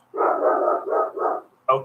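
Dogs bark close by in a run of several rough, sustained bursts with only short gaps, then one more sharp bark after a brief pause, loud and with no talk over them.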